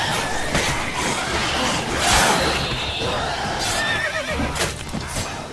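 A horse whinnies loudly in the video game The Witcher 3: Wild Hunt over a busy background of ambient noise, with faint hoofbeats and scattered sounds around it.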